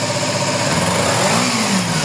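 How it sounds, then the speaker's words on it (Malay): A low-mileage 2015 Kawasaki Z250 motorcycle engine runs loud and close, idling steadily before a brief rev rises and settles back, with no talk over it. "Dan dia punya condition engine masih tip top, bunyi macam ini."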